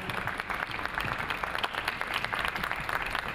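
An audience at a fashion show applauds steadily throughout, a dense, even wash of clapping from many hands at moderate loudness.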